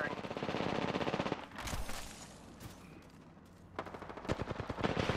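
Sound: gunfire in the video game Apex Legends

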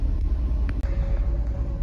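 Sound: Ford truck with C6 transmission driving

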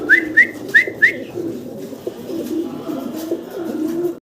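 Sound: Shartin pigeons cooing

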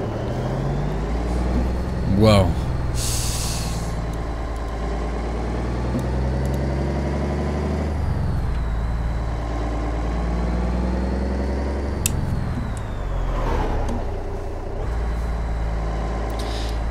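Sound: International Transtar truck engine idling

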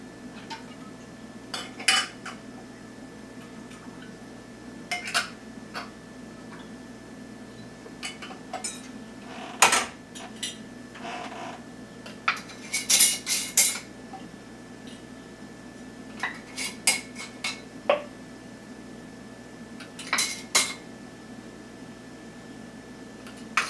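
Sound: putting lids on jars of rhubarb juice

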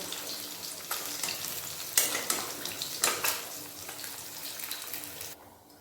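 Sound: pabda fish frying in pan

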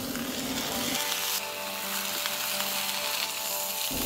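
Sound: salmon sizzling on a hot griddle with olive oil

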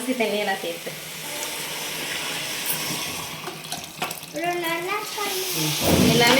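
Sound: sautéing chicken biryani masala in a pan

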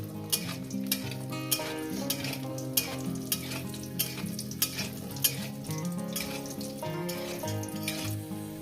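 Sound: spiced lentil dumplings (bori) frying in oil

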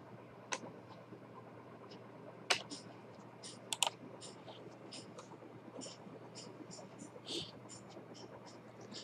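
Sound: typing on a computer keyboard entering a captcha

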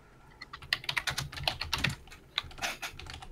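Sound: typing on a computer keyboard

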